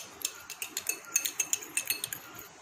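A spoon clinks rapidly against a bowl while mixing homemade saffron cream, a dozen or so light, quick metallic taps in a steady rhythm, close and fairly quiet, with no voices.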